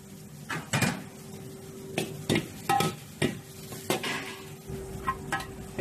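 Bell peppers and corn stir-fried in a wok, a quiet sizzle broken by a series of sharp metal spatula scrapes and clanks against the wok, irregular and close.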